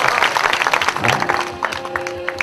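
Lively audience clapping at a folk-literature stage performance during a 2011 festival, with close, sharp hand-claps in a quick uneven patter that thins out toward the end and carries some crowd murmur.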